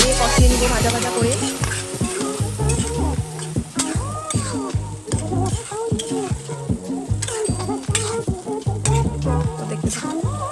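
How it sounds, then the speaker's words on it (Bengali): Vegetables with salt, chilli paste and turmeric being stirred and fried in a pan for a light fish curry with gourd shoots and potato, loud close sizzling with repeated scraping strokes over background music. "তো এখন ভালো করে নাড়িয়ে চাড়িয়ে কষিয়ে নিব ভাজা ভাজা করে।"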